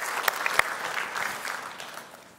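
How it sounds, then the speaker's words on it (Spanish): A church congregation bursts into strong applause for the Lord, a few loud claps up front melting into a dense, even wash of many hands that slowly fades. "Dale ese fuerte aplauso al Señor."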